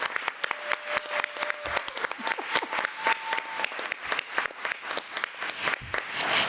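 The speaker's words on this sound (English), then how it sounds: "So let's give Jade a round of applause." An audience at a school board meeting applauds for a student, a steady patter of many hands clapping at moderate distance, continuous and unbroken.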